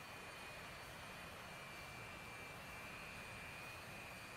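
A jet aircraft taxis out to the runway in a combat flight simulation set over Syria. A steady, even engine whine and roar holds throughout with no voices.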